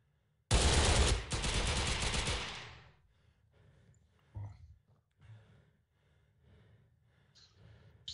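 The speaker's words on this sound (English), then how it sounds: "Now I seem to be stuck with the machine gun." Machine gun fire in Red Orchestra 3.3, an Unreal Tournament game mod: a loud, close automatic burst of rapid rounds lasting about two seconds, then a few faint thumps and low background noise.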